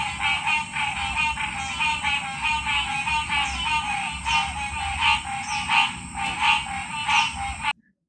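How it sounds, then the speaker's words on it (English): Frogs and insects calling at night by a lake, a dense, continuous chorus of rhythmic croaks and chirps, steady and fairly close, with no voices. "just the sounds of the frogs and the insects"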